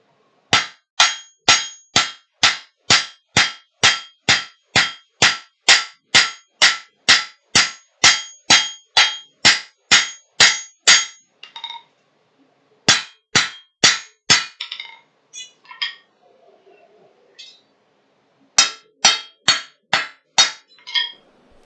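A power hammer pounds in a fast, steady run of sharp metallic clangs, about two per second, pausing briefly before starting again in short bursts.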